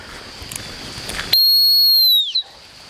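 A loud, sharp training whistle cuts through a quiet outdoor puppy-training session. It gives one sustained, steady blast of about a second that ends with a brief downward trailing chirp, with no voices.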